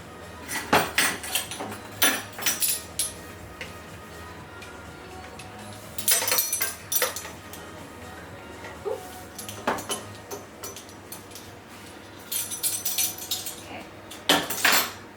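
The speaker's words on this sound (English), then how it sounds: "And then you want to sift that with a sifter." Flour for banana almond bread is worked through a metal sifter, making close bursts of rattling, clattering metal that come in separate runs with short pauses between them.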